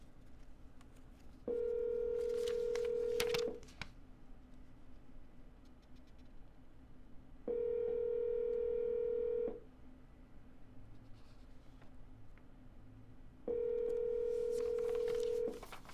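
Telephone call being redialed: three separate bursts of a steady electronic tone, each about two seconds long, spaced evenly with quiet gaps of faint line noise between them, heard clearly on the handset line.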